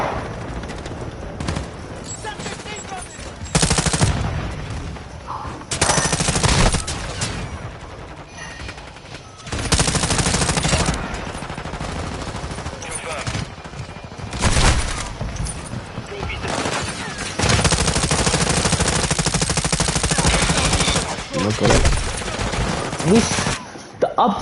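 A light machine gun firing in a shooter game, fired in repeated long bursts of rapid rounds, loud and close, with pauses between bursts and a voice talking in places.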